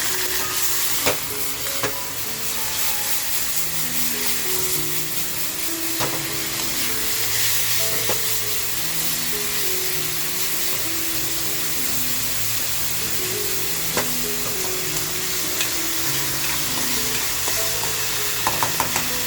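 Bombil (Bombay duck) manchurian stir-fries with schezwan chutney and soy sauce in a hot pan, giving a continuous loud sizzle with repeated scraping stirs and occasional clinks of the spatula.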